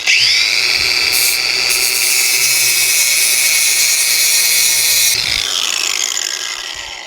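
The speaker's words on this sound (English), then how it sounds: "So I have an angle grinder here that I put a flap wheel on." Angle grinder fitted with a flap wheel cleaning up a weld on a Razor MX650 battery tray, a loud, close, high whine of abrasive grinding held steadily for about five seconds before the motor spins down.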